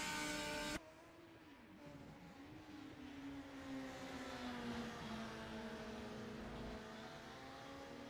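Aussie Racing Cars in a racing simulator at Oulton Park, engine tone falling through the gears as the car downshifts, a loud steady whine with harmonic sweeps after an abrupt cut, no talk.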